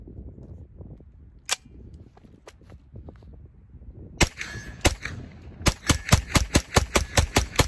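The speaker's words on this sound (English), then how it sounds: "So I'm just shooting the B&T here" A B&T GHM9 pistol caliber carbine firing: sharp, loud, close shots, first spaced single shots, then a fast steady string of about a dozen rounds with no talking.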